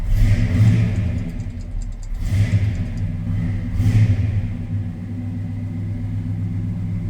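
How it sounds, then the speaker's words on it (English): A 1968 Chevrolet K20 pickup's 327 V8 starts cold and revs, with a deep, steady rumble that swells in three throttle blips before settling into a loud, even idle. "Let's fire up this 327. Oh, and it sounds good too."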